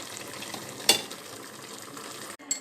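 Sauce for blanquette de veau bubbling softly at a steady simmer, with a single sharp clink as chopped celery and a stock cube are added, close and without talk.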